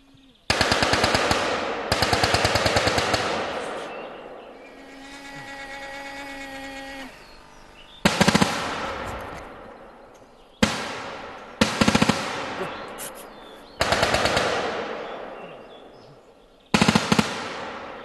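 Bursts of machine-gun fire, loud and close, coming in rapid rattling volleys with short gaps between them and a sustained tonal hum in the middle stretch, with no talk.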